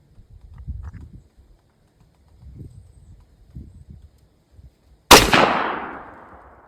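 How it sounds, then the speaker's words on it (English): A single 6.5 Grendel rifle shot fired into ballistic gel cracks loudly outdoors, with a sharp onset and a trailing decay, after a few seconds of faint low rustling and handling noise. "All right, that's 3 shots."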